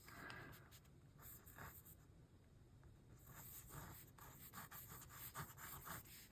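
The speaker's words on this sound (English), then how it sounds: "And I'm going to write" Handwriting in an art journal, a pen or marker scratching and rubbing across paper in short strokes and pauses, close and quiet, with no talking.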